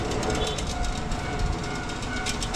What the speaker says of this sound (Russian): Вот на этом поезде я с пересадкой поеду в мегаполис